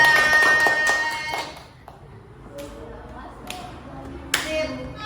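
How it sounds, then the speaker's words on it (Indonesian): Scattered hand clapping in an elementary school classroom during a digital lesson, a few short bursts of claps separated by quieter gaps with light background noise. "Tepuk tangan buat saya semua."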